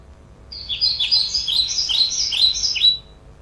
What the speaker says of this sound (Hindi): I'm Bulbul, and this is my sound.